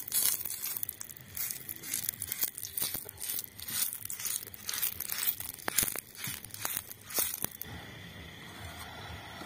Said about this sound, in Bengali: আবার একবার তেল দিয়ে মুছে নেব।